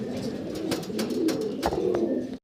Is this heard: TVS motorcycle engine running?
no